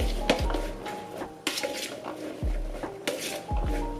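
Seasoned vegan food with garlic salt, garlic powder and paprika gets tossed and stirred in a bowl, giving soft wet squishes and a few sharp clinks of a utensil against the dish, close and fairly quiet.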